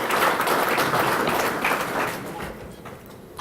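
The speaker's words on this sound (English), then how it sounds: "Give Kanaya a round of applause, please." Banquet audience applauding a scholarship recipient at an annual memorial banquet, a loud burst of many hands clapping that gradually thins and fades toward the end.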